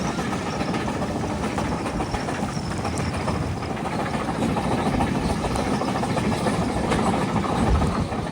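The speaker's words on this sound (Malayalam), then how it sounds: "രണ്ട് മണി ട്രെയിൻ ഇപ്പോൾ കർമാലി സ്റ്റേഷനിലേക്ക് ഇതാ എത്തുകയാണ്." The Konkan Kanya Express sleeper train, travelling Mumbai to Madgaon on the Konkan Railway during monsoon rain, rolls toward Karmali station, a continuous loud rumble and clatter of wheels and carriage noise filling the interior throughout.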